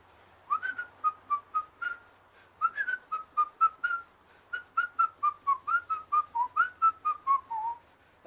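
A person whistles a bouncy tune in short, evenly spaced notes while prepping a blown Briggs & Stratton opposed-twin engine for rebuild and smoothing a crankshaft journal; the whistling is clear and close in a quiet space.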